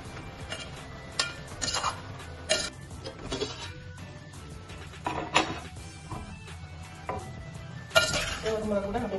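A spoon scrapes and clinks against a metal pot while drumstick curry is stirred, giving intermittent close clatter and knocks over a low background hum, with no talking.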